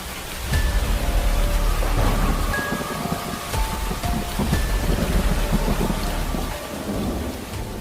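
Heavy rain pours steadily in an animated school drama, with rumbling thunder rolling beneath the dense hiss of the downpour and no talking.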